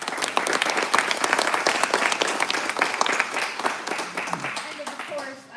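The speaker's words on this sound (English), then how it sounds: "Big round of applause." An audience at a water treatment plant ribbon-cutting claps in sustained applause, a dense patter of many hands at fairly close range that gradually thins and fades at the end.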